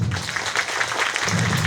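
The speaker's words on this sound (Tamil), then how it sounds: "எல்லாரும் எங்கள் மாமாக்காண்டி ஒரு கைத்தட்டு." Village festival folk-art stage audience gives dense, steady applause for a performer's uncle, a continuous crowd clapping that fills the space without a pause.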